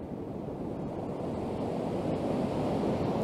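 Sea surf washing onto the beach at Budva, Montenegro, in November, a steady, dense roar of breaking waves with wind noise, continuous and fairly close with no voices.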